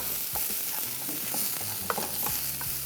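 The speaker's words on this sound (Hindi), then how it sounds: "प्याज सबसे पहले थोड़ा सा फ्राई किया" Onions frying in a pan with a steady sizzle beneath repeated scraping stirs of a spoon, close and moderately loud, with no talking.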